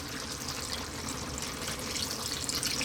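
Water poured into a simmering Ethiopian lamb and potato stew with tomatoes, a steady close splashing pour that runs evenly for a few seconds with no talking.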